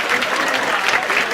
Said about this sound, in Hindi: मैं चाहती हूँ आप लोग सब जोरदार तालियां